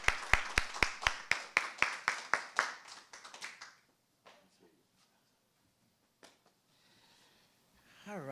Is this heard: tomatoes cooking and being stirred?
no